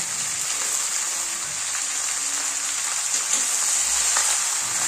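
Beans and eggplant pieces sauté in a pan with other vegetables, giving a steady, even sizzle that hisses without pause and with no talking.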